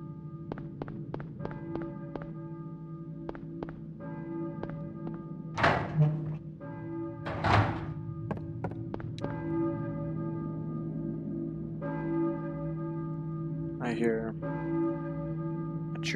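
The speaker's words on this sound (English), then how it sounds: "Church bell." A church bell in the Silent Hill video game rings in repeated, resonant strikes with a lingering hum, set against a low droning ambience, with a couple of heavier thuds partway through.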